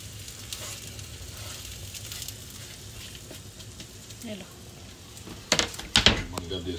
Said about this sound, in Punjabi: ਦੇਖੋ ਜੀ ਇਹ ਬਣ ਰਹੀ ਹੈ ਜੀ ਐੱਗ ਭੁੱਜੀ